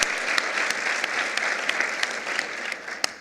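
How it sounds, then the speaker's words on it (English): An audience at a Junior Leagues international conference gives a full round of applause, a dense, steady clapping with sharper individual claps standing out and no speech over it. "Let's give them all a round of applause."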